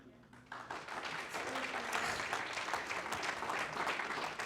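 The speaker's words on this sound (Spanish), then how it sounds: "le dan un aplauso desnutrido al Señor ahí" A church congregation gives the Lord thin, scattered applause that is quiet and somewhat distant. It builds within a second and carries on unevenly for several seconds, with faint voices mixed in.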